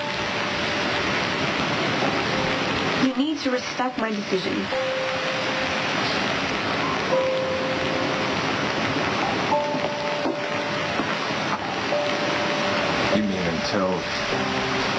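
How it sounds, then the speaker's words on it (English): Heavy rain pours outside in a scene from the sitcom Scrubs, a steady hiss of rainfall running under the whole clip while people talk over it. "It's pouring rain outside."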